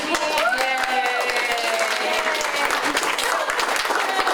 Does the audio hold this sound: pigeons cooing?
no